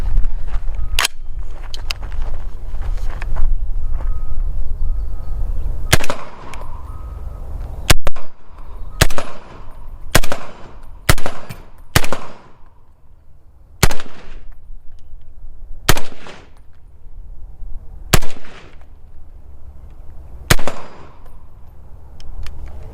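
A semi-automatic .308 rifle with a short 6-inch barrel and an OSS suppressor fires about a dozen loud, sharp, muffled cracks at uneven intervals, some in quick pairs, each with a short decaying tail, and no talking between shots.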